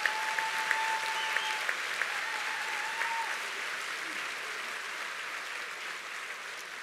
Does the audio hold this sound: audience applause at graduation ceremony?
yes